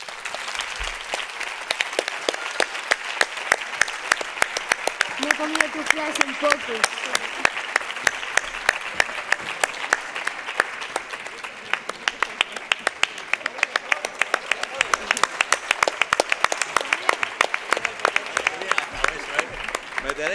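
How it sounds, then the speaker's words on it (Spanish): Strong audience applause at an education gala welcoming teacher Rafael to the stage, dense rapid clapping sustained for about twenty seconds, with a brief voice heard over it. "tenemos que recibirlo con un fuerte aplauso"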